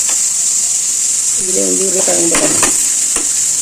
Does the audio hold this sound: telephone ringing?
no